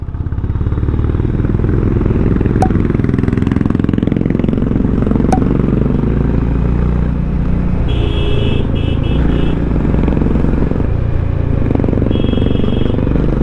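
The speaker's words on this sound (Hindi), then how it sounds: "the stock exhaust is really beautiful, makes a beautiful sound यार" A Honda CB350 motorcycle with its stock exhaust, heard while riding as a loud, steady, deep engine drone with rumbling, continuous and close, with a little clatter and no talk over it.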